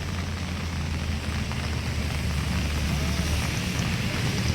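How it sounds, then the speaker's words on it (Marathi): Evening rain falling in Ambivali, a dense, steady hiss of rainfall heard close and continuous throughout with no speech. "हे बघा आंबिवलीमध्ये पाऊस चालू आहे"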